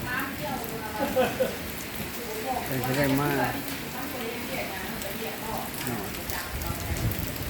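Steady rain patters down throughout, a dense hiss of drops on surfaces, while a voice speaks over it now and then.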